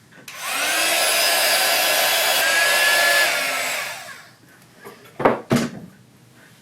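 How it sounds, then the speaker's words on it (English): Heat tool blasting hot air over Cosmic Shimmer strata paste, a loud steady blowing hum for about three seconds that winds down, followed by a few knocks and clatters. "Give that a quick blast with the heat tool."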